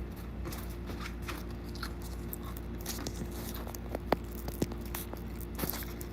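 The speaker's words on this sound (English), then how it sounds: "I can hear you chewing though really well" A person chews food close to the microphone, giving soft, irregular biting and squishy mastication sounds, with a few sharper crunches near the four-second mark, all over a steady low hum.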